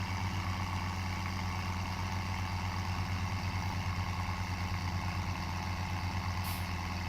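A tractor engine in Farming Simulator 17 drones steadily at low pitch while pulling a heavy implement, a constant loud rumble with no change in rhythm and no talking.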